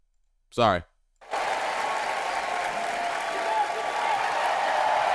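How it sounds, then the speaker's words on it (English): A burst of crowd applause rises suddenly after a short vocal sound and holds steady and dense, a broad, continuous clapping wash without letup. "I gotta give my dog a round of applause."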